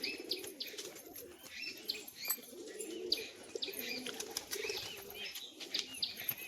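A white-and-green female tumbler pigeon, released without a string, flaps its wings during a tumbling display, with repeated close wingbeat flutters and soft bird chirps and coos nearby.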